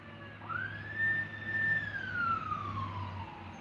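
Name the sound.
ambulance siren passing outside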